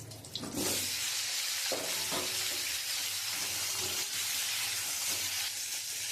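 Cucumber pieces drop into hot oil after prawns have been fried, bursting into a loud sizzle that settles into a steady, close frying hiss with no talk.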